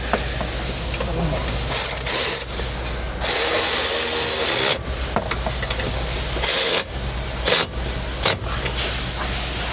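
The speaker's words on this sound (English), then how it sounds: "With your 2 mounting bolts started, we can go ahead and tighten them up with a 13mm socket." A ratchet with a 13mm socket tightens M8 mounting bolts during a CFMOTO UForce U10 Pro gun mount install, heard as close, bursty mechanical clicking and whirring in short runs with brief pauses between.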